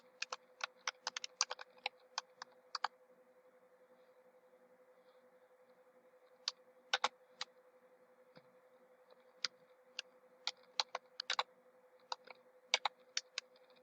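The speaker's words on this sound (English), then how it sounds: "Type in your address." Typing on a computer keyboard while entering an address into a Word labels form, quiet bursts of crisp key clicks with pauses between, close and isolated over a faint steady hum.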